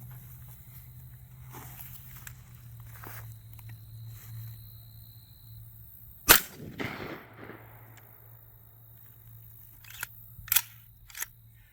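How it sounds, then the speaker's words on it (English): A single sharp shot from a Charles Daly AR .410 semi-automatic shotgun cracks out midway through a quiet stretch, followed by a few scattered metallic clanks and shuffles. "So it did successfully fire, and it's successfully ejected."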